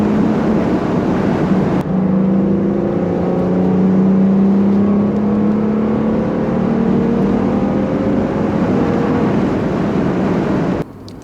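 A project race car engine drives laps around Llandow Circuit. The loud, close engine drone holds steady throughout, its pitch climbing and dropping through gear changes, with no talking over it.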